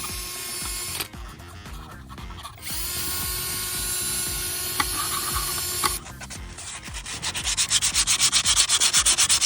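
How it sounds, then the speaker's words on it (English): A power sander grinds steadily against a classic Volvo's valve cover, a loud, close, continuous rasping that shifts in pitch and ends with fast, pulsing strokes, with no voices. "Sanding her down now."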